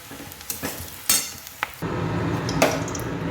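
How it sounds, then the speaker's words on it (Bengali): Onions frying in oil for a mutton curry, with soft sizzling broken by a few sharp stirring clatters of utensil on pan, then a steadier, louder sizzle in the second half. "পেঁয়াজ ভাজা হয়ে গেলে তুলে নিতে হবে"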